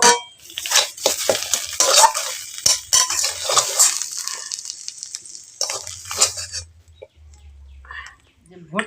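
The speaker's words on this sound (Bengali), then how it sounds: "আর একটুখানি নেড়ে চেড়ে আমি নামিয়ে নেব" A metal spoon scrapes and clatters in a pan while prawns cook in a taro leaf paste, giving busy, close stirring sounds that fade into quiet near the end.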